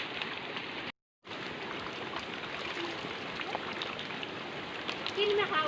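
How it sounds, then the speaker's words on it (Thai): Steady rushing hiss of heavy rain and fast-flowing water in a full stream, dense and continuous, broken briefly by a moment of silence. "น้ำไหลรัวรัวรัวพี่น้องเอ้ย"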